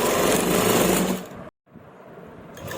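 A sewing machine stitching a kameez shirt whirs rapidly and steadily up close, then stops abruptly partway through, leaving near silence.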